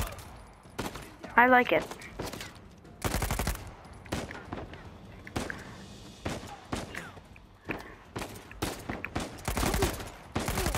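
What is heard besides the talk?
gunfire from a gun in the video game Uncharted 4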